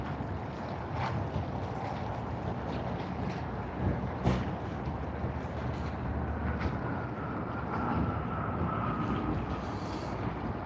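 Japan Airlines Boeing 777-300ER arriving at Sydney Airport, a steady broad engine rumble and wind-like roar, sustained at moderate loudness without talking.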